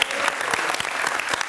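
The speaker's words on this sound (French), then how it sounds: "On les applaudit." A brief burst of audience clapping for a local football club, with individual claps standing out as crisp, uneven transients in a dense, moderately loud wash.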